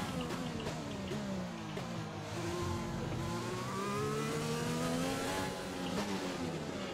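A Formula 1 car engine in the F1 2020 racing game, during a long race at the British Grand Prix, revs loud and steady and climbs through the gears in a continuous high-pitched whine.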